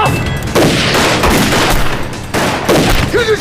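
Dense gunfire rings out in a Chinese anti-Japanese war drama as rifles and machine guns fire loud, overlapping volleys with booming bursts. Faint shouting can be heard under the shooting.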